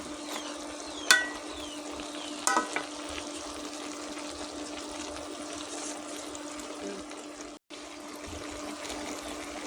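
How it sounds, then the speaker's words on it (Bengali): Spinach curry being stirred in a pan, a quiet low simmering bubble with a couple of soft scraping clinks from the spoon near the start and middle. "দিয়ে তরকারি আবার ভালো করে নেড়ে দেবো"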